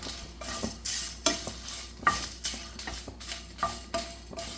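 Flax seeds and dried red chillies are dry-roasted in a pan with a soft, rhythmic scraping of a spatula over a faint sizzle, quiet and close, without talking.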